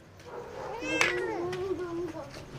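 A cat meows once, close and clear, its drawn-out cry rising and then trailing off, with faint background noise.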